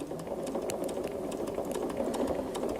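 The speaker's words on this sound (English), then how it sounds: "I'm stitching right on the edge." A sewing machine runs steadily, stitching right along the edge of a piece of fabric, its fast mechanical whir continuous and close throughout with a faint rattle.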